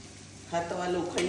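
Banana flower vadis fry on an iron tawa over a low gas flame, a soft steady sizzle that swells slightly partway through, with light utensil scraping.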